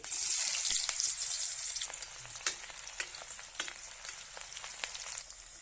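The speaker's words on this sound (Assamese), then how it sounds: "আমাৰ তেল গৰম হৈ গৈছে। ইয়াতে মই দি দিম এতিয়া পিঁয়াজখিনি।" Onions drop into hot oil in a clay kadai, setting off a loud, dense sizzle that settles after a couple of seconds into a steadier frying hiss with scattered sharp crackles and spatters.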